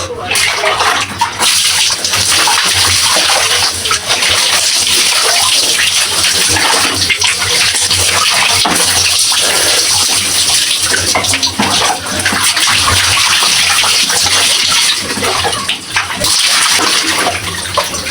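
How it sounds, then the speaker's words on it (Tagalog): Loud, steady running water pours over hair to rinse out soaked-in shampoo during a bath, a continuous close splashing rush that goes on without a break. "ngayon is magbabanlaw na tayo dahil binabad natin yung hair natin sa shampoo"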